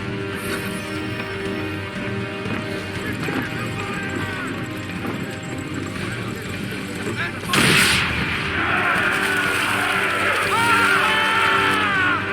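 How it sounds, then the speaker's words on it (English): In Assassin's Creed 3, swivel guns fire and powder barrels blow up in booming blasts, with a loud crash midway and rumbling explosions after it, all over a constant bed of game music and battle noise. "Now give the swivel guns a turn. More precise. Hit those old powder barrels and light up the sky."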